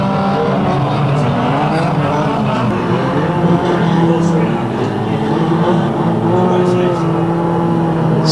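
Banger racing cars roar around a shale oval at a Kings Lynn unlimited meeting, a dense continuous wash of revving engines from several cars close by, with a commentator talking over the noise.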